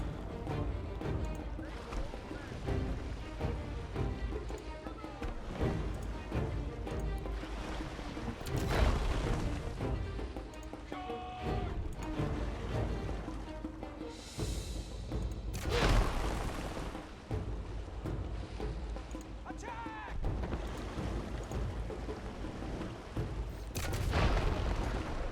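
Naval bombardment in the strategy game Humankind, with repeated booming artillery blasts and shell impacts near the shore layered over dense game music and clatter, loud and continuous across the scene.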